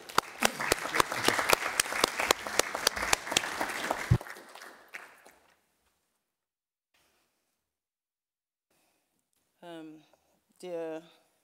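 An audience at a general assembly of a criminal bar association applauds loudly for about four seconds before the clapping fades out, followed by silence and then brief speech.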